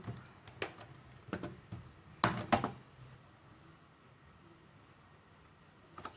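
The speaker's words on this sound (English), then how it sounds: "Typing in the password." Keys clatter on a computer keyboard while a password is entered during an Ubuntu 25.04 setup, in short, quiet clusters of taps with a sharper burst midway, then near silence.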